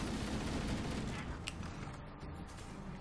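Rapid bursts of weapon fire and explosions from the Halo video game, where a rocket launcher is being fired, form a loud, continuous barrage that fills the whole stretch.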